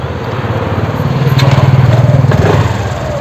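A TVS scooter with a fully dead battery fires up and runs, its small engine putting out a loud, close, rapid pulsing chug that swells briefly before settling into a steady idle.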